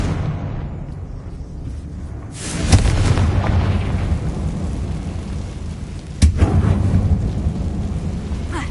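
Confringo spell explosions in the Hogwarts Legacy video game, two sharp booms a few seconds apart over a steady low rumble, with no talk.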